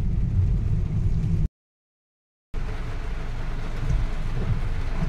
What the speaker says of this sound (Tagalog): Pero ang ulan ay ayan pa rin.